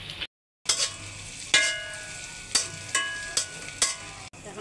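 Chopped garlic added to lightly fried onion in hot oil in a wok, for a prawn chili dish: a steady close sizzle broken by repeated stirring scrapes about once a second, with a brief silence near the start.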